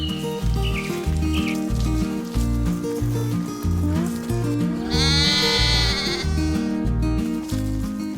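Sheep bleat repeatedly over a steady, loud, rhythmic music-like backdrop, with a brighter prolonged bleat near the middle; the animals are livestock being unloaded and checked after a journey before going to holding areas near markets.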